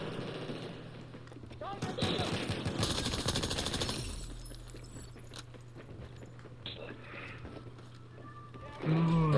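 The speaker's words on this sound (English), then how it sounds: "I'm hitting them with these little PDW bullets" Bursts of rapid PDW gunfire from the video game Battlefield 4, a dense loud volley early on that gives way to scattered shots and in-game sounds over a steady low hum, with a voice speaking briefly near the end.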